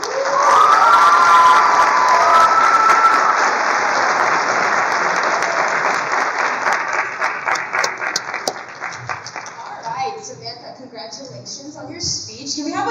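An audience at a high school alumni panel bursts into loud applause and cheering after a speech, strong at first and then thinning into scattered claps and voices.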